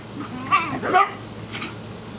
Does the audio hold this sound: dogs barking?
yes